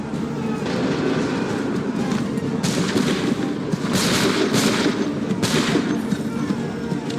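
Musket volleys in Assassin's Creed III, several dense bursts of gunfire crackling over a steady low rumble of battle noise, loud and close, with no talk.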